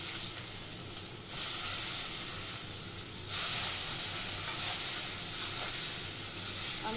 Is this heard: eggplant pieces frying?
yes